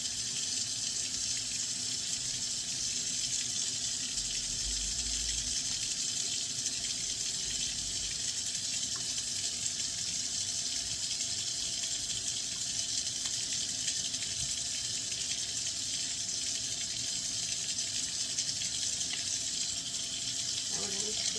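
Hands being washed and rubbed with antibacterial soap under a running tap at a sink, a steady close rush of water continuing throughout without pause.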